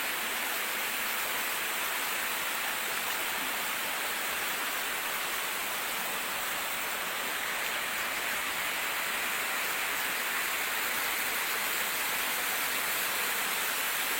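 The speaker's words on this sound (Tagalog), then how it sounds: "Ayan na yung ulan." Steady rain falls outdoors on a mountain trail leading to a waterfall, a dense, even hiss that holds unchanged from start to end with no voices.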